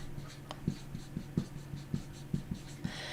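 Writing on a classroom board during a Korean history lecture: a steady run of short, quick strokes and taps, close and fairly quiet, with no voice over it.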